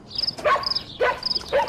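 A dog gives three short, high yelping barks in quick succession, close and fairly loud, with brief gaps between each.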